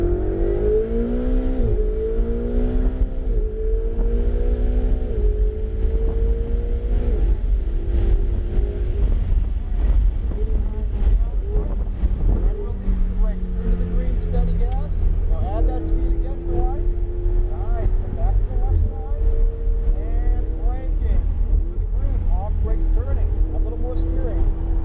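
A Ferrari engine at full throttle on a straight at Portland International Raceway roars loud and close, its pitch climbing and dropping through gear changes, with wind noise and a voice talking over it.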